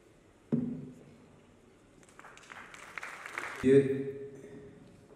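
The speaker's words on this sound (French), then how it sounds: "Indigo, on l'applaudit très très fort" An audience at a film festival awards ceremony in Dakar applauds a winning film. A single sharp knock is followed by a spell of quiet, then a modest burst of clapping with voices talking through it.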